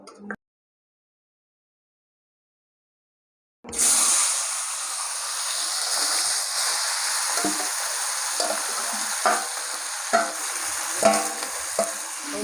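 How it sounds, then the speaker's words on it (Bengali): Marinated mutton goes into hot oil in a wok after a brief silence, then a loud close sizzle with scraping stirs and occasional louder bursts carries on steadily, no talking. "কড়াই তেল দিয়েছি তেলটা গরম হয়ে গেছে এই যে দশ মিনিট পনেরো মিনিট হয়ে গেছে এটা আমি মাংসটা মশলার সঙ্গে মাখিয়ে রেখে দিয়েছিলাম তো এটাকে আমি এখন দিয়ে দেবো"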